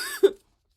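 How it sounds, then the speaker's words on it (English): A woman gives a single short, close cough that ends abruptly, followed by silence. "why am I coughing so much right now?"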